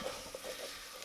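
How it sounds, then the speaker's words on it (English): Diced onions and garlic sauté together in a pan, giving a steady close sizzle with a few soft stirring scrapes over one second, no talk. "We'll just saute the onions and the garlic together."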